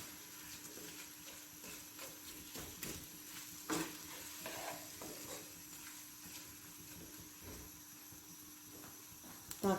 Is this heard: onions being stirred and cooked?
yes